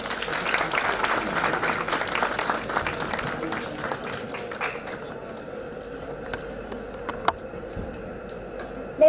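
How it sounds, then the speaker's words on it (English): A conference audience applauds steadily, the clapping thinning and fading out toward the end, leaving quiet room tone and a few stray claps. "Let's give a big round of applause to Dr. Singh for his insightful speech."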